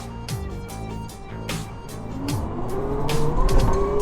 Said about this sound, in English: Running is as smooth and silent as can be, with the only noise being a mechanical whir that sounds more artificial than anything